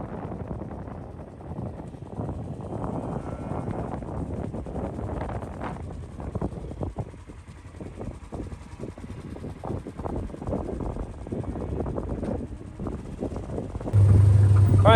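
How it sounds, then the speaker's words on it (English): Outdoor wind buffeting a microphone on a farm with cows, a rough low rumble of gusts that rises and falls over fifteen seconds, loud and close, swelling harder near the end, with no speech. "pardon the wind again"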